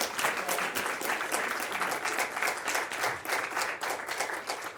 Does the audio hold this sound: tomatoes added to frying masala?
no